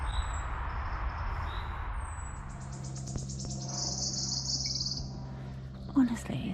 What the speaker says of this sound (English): it's surprising how much song and how loud it can be with such a small bird